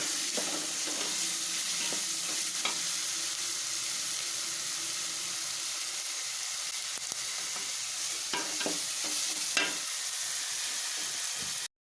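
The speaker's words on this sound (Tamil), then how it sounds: "கொஞ்சம் ஜீரகம் போட்டு கடுகு போட்டு தாளிச்சிட்டு வெங்காயம் தக்காளி போட்டு நல்லா வதக்கணும்" Onion and tomato sautéing in oil over a cumin and mustard seed tempering for a fish curry, a dense continuous sizzle with occasional stirring scrapes, close and steady throughout, with no voices.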